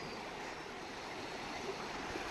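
Steady rushing rain floodwater fills the scene in a village, a continuous broadband roar like a stream pouring down, with no voices.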